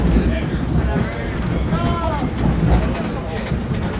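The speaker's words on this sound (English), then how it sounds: "Hold on to something because this train is coming to a stop." Metra commuter train car running from Aurora toward Chicago Union Station and slowing to a stop, with a steady loud rumble, rail clatter and squealing brake tones, while passengers talk nearby.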